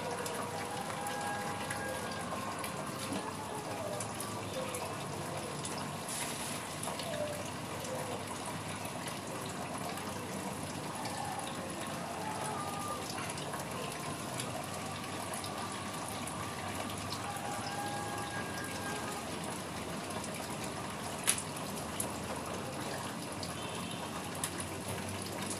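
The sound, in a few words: changing water in hydroponic water spinach container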